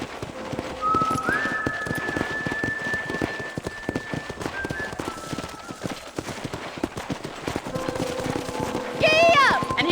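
Steady rhythmic hoofbeats of a trotting horse in Red Dead Redemption, with game-style whistling tones rising over them and a bright chime near the end.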